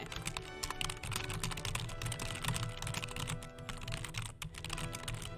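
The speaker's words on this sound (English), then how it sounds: "Typing a message to a friend real quick in that game, actually." Steady, fast typing on a computer keyboard while messaging in a text-based online game, a dense continuous patter of close key clicks with no speech over it.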